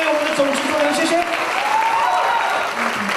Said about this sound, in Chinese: 再热烈掌声，欢送郑允浩老师